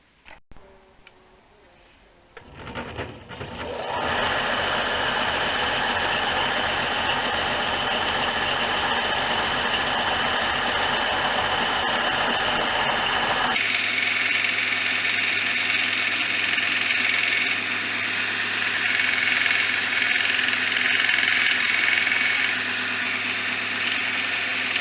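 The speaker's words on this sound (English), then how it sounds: "Now I'm going to take it over to the sander and try and sand out and make it an even curve." A power sander starts up after a brief quiet moment and runs loudly and continuously, grinding a rough-cut wooden shelf piece into an even curve, its pitch shifting partway through as the pressure changes.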